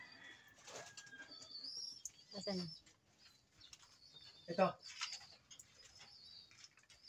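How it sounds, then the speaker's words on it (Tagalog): A wet checkered pigeon flaps its wings in short bursts, with a few flutters nearby and moderately loud, while people talk around it. "Ayun yung ibon niya po, yung checkered na basa."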